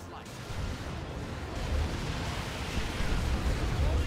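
Artillery fire in the strategy game Dawn of War 2: Retribution, a continuous low rumbling barrage of booms and blasts that swells slightly and keeps going, fairly loud with no pause.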